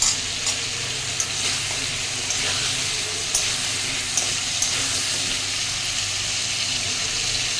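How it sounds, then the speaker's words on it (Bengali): Potato pieces sizzle in hot oil in a pan, a steady dense crackle with a few sharper spits and faint stirring clatter, continuous throughout with no voices. "দেখুন, আমি এবারে আলুগুলো ভাজতে দিয়েছি।"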